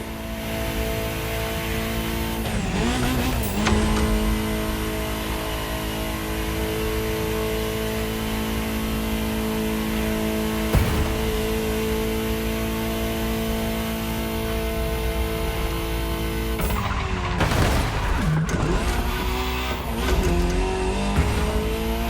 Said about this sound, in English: just enjoy the collector's piece that is the Gran Turismo Omologato, or like Mr. Pignati Morano said, simply GTO.